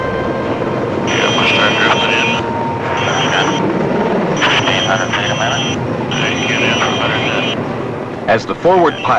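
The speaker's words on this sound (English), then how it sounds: "As the forward pilot maneuvers the craft into position, the aft pilot guides the sections into place with pinpoint accuracy." A heavy-lift helicopter hovers and maneuvers to set sections atop Toronto's CN Tower, a loud continuous rotor and engine roar with a pulsing whine, heard under a narrator's voice.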